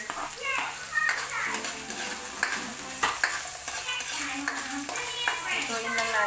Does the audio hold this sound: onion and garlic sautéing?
yes